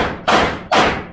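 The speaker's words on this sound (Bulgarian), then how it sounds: "Не могат по-тихо да стрелят." Two pistol shots at an outdoor shooting range, each a loud, sharp broadband crack with a short decaying tail, spaced about half a second apart and heard alone.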